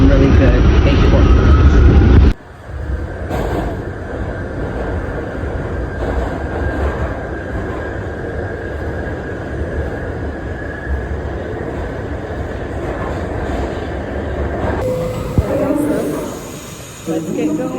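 A New York subway express train runs between stations, its loud steady rumble and wheel clatter with a high whine, starting with a heavy roar before settling into a continuous ride.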